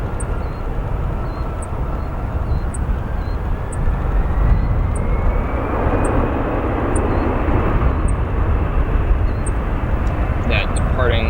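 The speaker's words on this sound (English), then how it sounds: "That departing in front of you, a Delta Airlines Airbus A320-200 delivered new to Northwest Airlines in November of 2001" A Delta Airlines Airbus A320-200 departing from Chicago O'Hare, a loud, broad jet roar that swells slightly midway with a rising whine, heard from nearby amid regular faint beeps.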